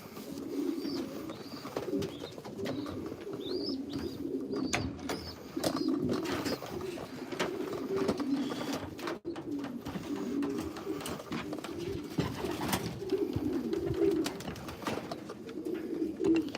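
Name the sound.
racing pigeons cooing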